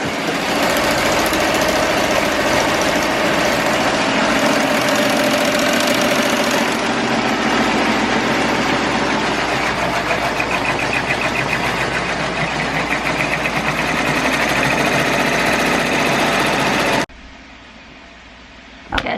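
A Melco EMT16X multi-needle embroidery machine stitching a pumpkin design onto a shirt, a loud, steady mechanical whirring and rapid rattling that runs continuously, then drops away abruptly near the end.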